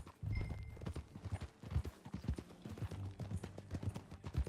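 Horse hooves clip-clopping steadily during a ride in the video game Red Dead Redemption 2, a quick rhythmic patter of close, clear footfalls lasting throughout over a low background.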